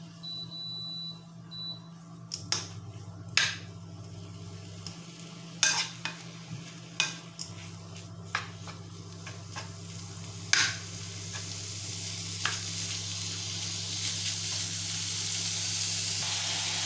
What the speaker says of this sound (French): Donc là, ma viande hachée commence à cuire